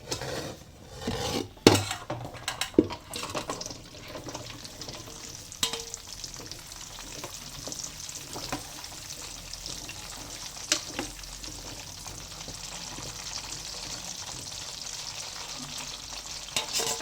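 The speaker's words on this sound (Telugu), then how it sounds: "ఇప్పుడు ఇంకా కొన్ని ఉన్నాయి అవి కూడా ఫ్రై చేసుకుంటాం" Indian gooseberries (amla) fry in a pan with a continuous close sizzle, opened by a few sharp clinks and scrapes of a utensil against the pan, then a steady hiss with occasional stirring taps.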